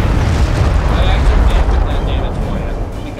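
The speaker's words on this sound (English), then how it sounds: "I fired my 20mm cannon" A 20mm cannon fires in the naval strategy game Forts, heavy low booming blasts rolling continuously and loudly over a rumbling water-battle backdrop.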